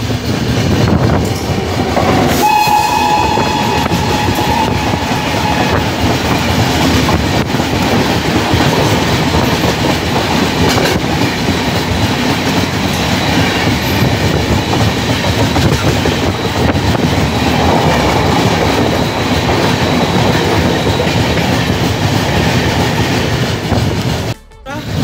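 Close-up rumble and rhythmic clickety-clack of the 12382 Poorva Express as it nears Howrah and passes the Howrah–Guwahati Saraighat Express, with a loud whoosh as the trains meet and continuous wheel noise throughout.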